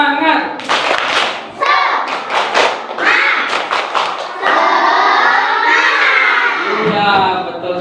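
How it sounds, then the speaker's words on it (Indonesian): Children clap out the rhythmic tepuk semangat chant in a classroom, sharp bursts of hand claps and shouted voices in quick patterned groups, then a sustained loud group cry, with talk mixed in. "mari kita tepuk-tepuk terlebih dahulu. Tepuknya tepuk semangat."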